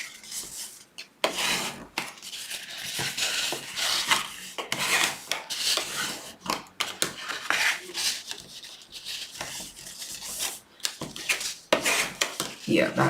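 A tool rubs and burnishes score lines across a large sheet of paper, giving irregular close scraping and swishing strokes with brief gaps, and speech is partly present.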